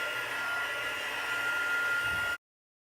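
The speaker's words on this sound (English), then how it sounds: "And then we're going to use our heat tool." Steady roar of a crafting heat tool blowing hot air for a paper bottle box project, loud and close, holding an even hiss for about two seconds before cutting off abruptly.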